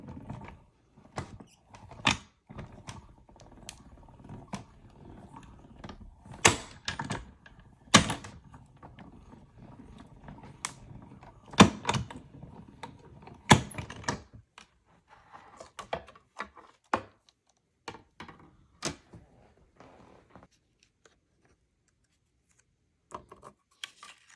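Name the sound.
cranking paper through a Stampin' Up die-cutting machine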